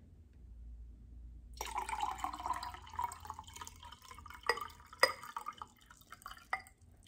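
Water poured from a container into a cup, heard as a steady trickling fill broken by a few sharp drips and splashes, close and alone with no talking.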